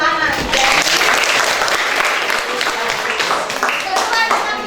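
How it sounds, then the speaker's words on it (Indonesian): Classroom applause from a group of students fills the space, loud and steady throughout with lively voices mixed in beneath the clapping. "Oke, tepuk tangan."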